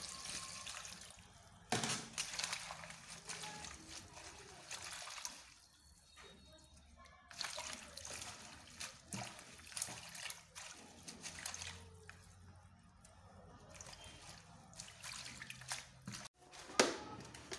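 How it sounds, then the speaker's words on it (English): Tap water trickles and splashes over a plant leaf being rinsed by hand for an ulcer remedy, running in uneven bursts with short gaps and close spattering, no voices heard. "Now I want to rinse the leaf."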